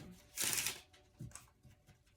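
Tiny Gypsy Witch fortune telling cards are shuffled and handled, a short riffling burst followed by softer taps and slides of the cards, close and quiet.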